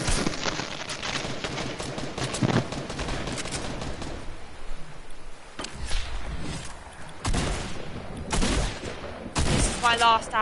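Sniper gunfire in a video game, loud sharp shots cracking out among bursts of rapid fire early on, then a few isolated near reports later, with excited talk running between them.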